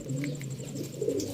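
Pigeons being fed coo nearby in soft, low, rolling calls, with faint chirps mixed in.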